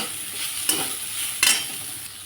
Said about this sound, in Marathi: लगेचच टाकते मी त्याच्यामध्ये जे फोडी करून घेतलं होतं आपण बटाट्याची तर फोडी त्याला मस्त परतून देऊ आपण